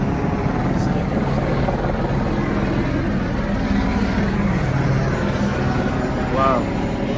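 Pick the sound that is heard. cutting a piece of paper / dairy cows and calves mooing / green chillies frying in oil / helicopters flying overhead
helicopters flying overhead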